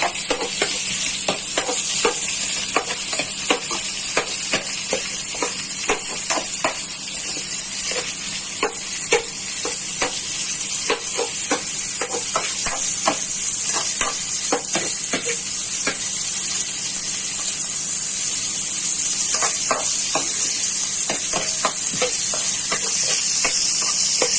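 Onions sautéing in a pan for chicken tinola, a steady loud sizzle and hiss with frequent scraping stirs of a utensil throughout, no voices.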